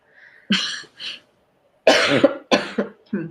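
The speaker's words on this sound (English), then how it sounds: "Excuse me, I have to cough." A woman coughs several times in short, loud, close bursts: a brief throat sound, then a pause, then a cluster of harsh coughs with small gaps between them, with no talk over them.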